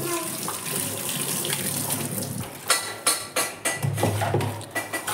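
Tap water runs steadily into a kitchen sink during dishwashing, with clinks and splashy knocks of dishes being rinsed near the end; no voices.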